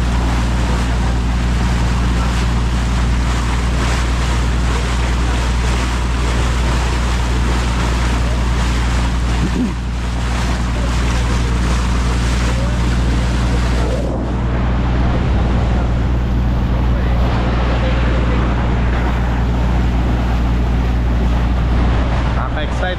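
Wind and surging sea noise heard from a motorboat nearing Siargao Island in Mindanao, with large waves around, a loud, continuous wash and rush that shifts midway through.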